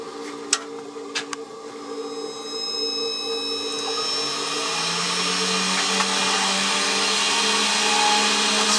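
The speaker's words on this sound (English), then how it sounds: "It's fully automatic CNC engraving." A fully automatic CNC machine engraves a logo onto the barrel of a baseball bat in a German bat factory, beginning with a few clicks, then spinning up into a steady, rising high-pitched whine and hum.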